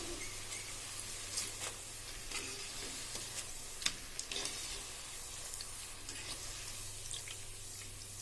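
Ragi and onion pakoda fry in hot oil with a steady, faint sizzle and light crackle, with an occasional soft tap or scrape of a spoon and no voices.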